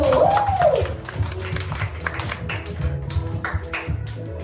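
Children clap along during a lively elementary-school Sunday worship service at church, a steady patter of close, overlapping claps mixed with crowd noise and background music, following a brief rising vocal whoop at the start.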